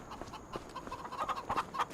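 Chickens clucking in the Farming Simulator 25 video game, a run of soft, repeated clucks near the coop that grow a little busier toward the end, with no talk over them.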